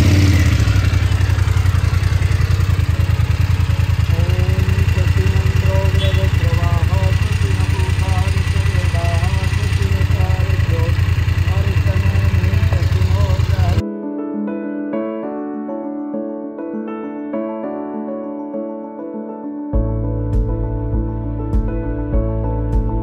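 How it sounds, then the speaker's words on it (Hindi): A new BMW motorcycle engine idles loudly and steadily, with a mechanical clatter. It then cuts out, leaving a quieter stretch with tonal music or chanting at a temple blessing before a low rumble returns. "मतलब इंजन ऑन कर दूं?"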